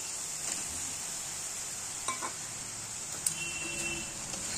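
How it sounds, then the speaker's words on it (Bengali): Pre-fried prawns tipped into hot oil for a yogurt prawn curry, giving a steady bright sizzle close by with occasional spatula scrapes and light clinks against the pan; no talking. "এবার দিয়ে দেব এর মধ্যে ভেজে রাখা চিংড়ি মাছগুলো।"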